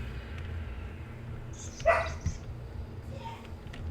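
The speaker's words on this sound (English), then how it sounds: "My fucking dog barked, so I couldn't really hear." A pet dog gives a brief, somewhat distant bark or yip over a low background hum while a video game is being played.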